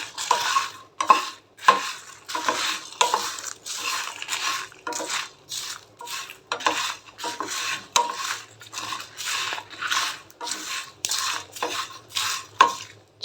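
Coriander seeds, dried red chilies and curry leaves are dry-roasted in a pan and stirred, with close, steady scraping and rattling strokes repeating in quick rhythm and no talking.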